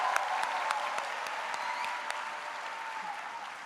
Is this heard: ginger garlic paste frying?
no